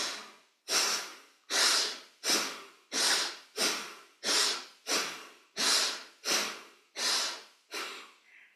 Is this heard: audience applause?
no